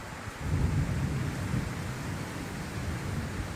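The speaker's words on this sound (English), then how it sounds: "the thunder started to build somewhere beyond the trees" Thunder rumbles low and steady beyond the trees at a riverside camp in Bavaria, a continuous deep roll that swells early and then holds under faint rain-like hiss, with no talking.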